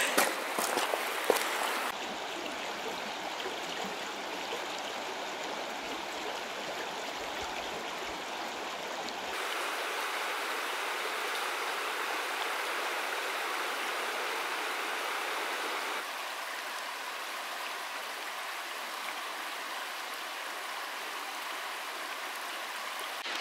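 The Acheron river near Parga in Greece rushes past where people wade across without a bridge, a steady broadband roar of flowing water, close and continuous, with a brief splashy burst at the start and no talk.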